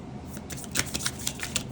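A deck of tarot cards is shuffled close up, with a steady soft rustle broken by several crisp riffling bursts in a loose rhythm.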